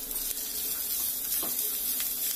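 Boneless fried fish pieces are stirred into chili masala in hot oil, producing a soft, continuous sizzle with a few light spatula scrapes, close and fairly quiet, with no talking.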